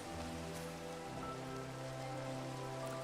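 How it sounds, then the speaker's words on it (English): Soft, steady rain from the video game Minecraft, an even, faint hiss of falling drops running unbroken under a low tonal drone, with no voices. "a fake rain sound"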